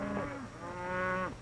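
Cattle on a ranch lowing in one drawn-out moo, fairly close, with no talk over it.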